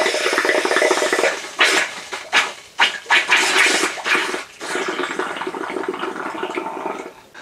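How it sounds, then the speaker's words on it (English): Rushing, gurgling water drains through a toilet cistern pipe of a Floe Induratec 868 drainage system in loud surges, then gives way to a steadier, airy hiss and sputter as the flow thins. "you will hear a definite difference between the water coming out and then the air"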